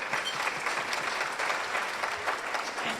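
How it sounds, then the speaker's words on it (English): At a game show, an audience gives the contestants a full round of applause, a steady, even crowd of clapping hands that stays strong for the whole stretch. "Can we give them a round of applause?"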